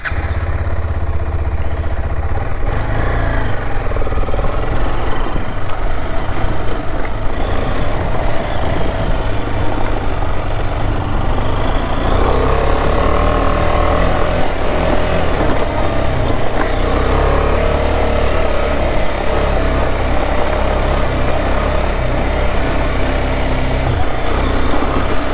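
Motorcycle ridden in off-road mode over rough, pothole-filled ground, its engine droning steadily and loudly close by throughout with continuous rumble and wind noise.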